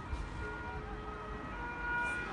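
Police car sirens arrive during clashes between Lecce and Brindisi football fans, a faint steady wail heard from a distance over low street rumble.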